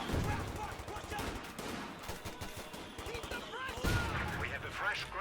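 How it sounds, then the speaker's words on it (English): MG42 machine gun fire in the Company of Heroes 2 video game, sustained bursts of rapid shots mixed with other battle noise and explosions, running continuously at moderate level. "We see the MG42 laying into these flanking squads"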